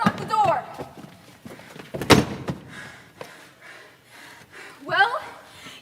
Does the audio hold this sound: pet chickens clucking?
no